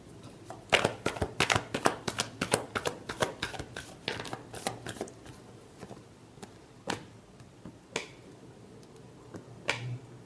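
Tarot cards being shuffled for a reading, a dense run of sharp riffling snaps for the first five seconds, then sparser isolated flicks and taps, close and fairly loud with no talking.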